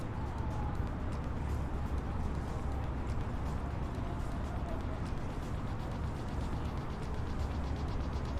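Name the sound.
printer printing a weather report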